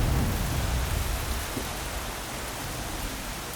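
Steady rain hisses evenly in the background, a dense soft patter with no voices.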